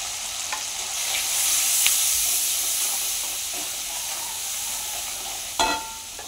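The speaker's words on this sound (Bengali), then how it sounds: "মশলা ভাজা হয়ে গেছে" Ground cumin, coriander, turmeric, chili powder and salt fry in hot oil with a steady, hissing sizzle held close and even, a few faint ticks, and a sharper clatter near the end, without any speech.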